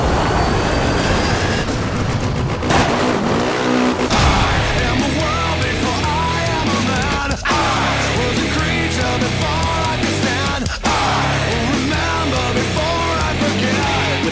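Racing vehicles in the PS3 off-road game MotorStorm roar continuously with loud, dense engine noise and rough rumbling, with brief dropouts and no speech.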